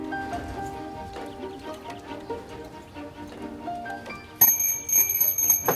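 A bell on a restored scooter is rung, giving bright sustained metallic tones with ringing overtones, first softer then a sharper, louder strike near the end over faint background clatter.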